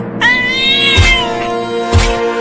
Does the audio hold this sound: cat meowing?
yes